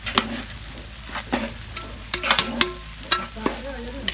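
Vegetables for fried rice, including garlic, tomato and carrot, are stir-fried in a large wok. A continuous sizzle runs under repeated sharp clanks and scrapes of the spatula against the metal, coming in quick irregular strokes.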